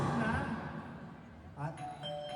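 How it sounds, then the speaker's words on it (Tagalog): A person talks briefly, then a two-tone electronic doorbell chimes clearly near the end. "May nagdodoorbell."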